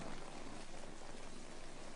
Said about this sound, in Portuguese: chove a cântaros durante um mês